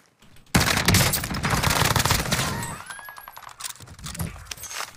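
Automatic weapon fire from a video game bursts in loudly and rattles steadily for about two seconds, then thins into scattered shots and faint mechanical clinks, with no talking.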